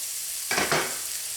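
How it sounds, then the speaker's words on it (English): Onions cooking in a pan for a wild chicken mushroom sauce, a low background sizzle broken by two quick stirring scrapes in the middle, close and with no talking. "Add the onions. Let the onions cook."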